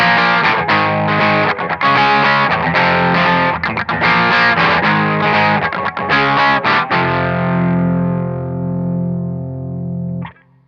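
An electric guitar with a distorted tone runs through an SCB6 pedal, hammering out chugging chords loudly for several seconds before one last chord rings out and fades.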